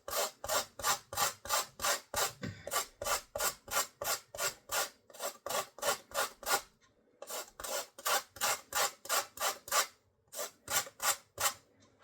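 Rapid rhythmic rasping strokes of lemon zest being scraped on a grater, close and crisp, with a couple of short pauses between runs.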